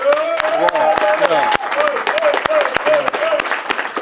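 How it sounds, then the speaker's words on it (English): A round of applause for Bermuda's Carifta medal winners, the island's 39-medal team, during a sports show. Clapping runs throughout beneath voices, cheering and a brief spoken word. "Can we all give them a round of applause?"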